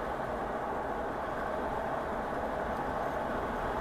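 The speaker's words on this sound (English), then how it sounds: "I'll lower one of the windows now just to see what it's like with a bit of wind noise." Wind noise buffets through a moving car with one window lowered, a loud steady roar that fills the cabin without a break and with no talk.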